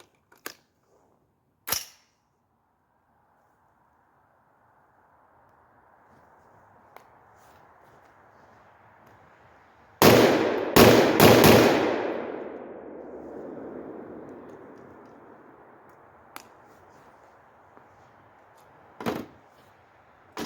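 Gunshots from a .308 rifle with a 16-inch barrel and a flash hider: a few sharp isolated cracks, then a loud cluster of three rapid shots whose long rumbling echo decays over several seconds, followed by a lone report.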